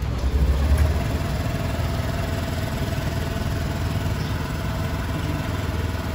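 A vehicle engine idles steadily after a start with the brake pressed, with a low, even rumble that carries unbroken from start to end and no talking.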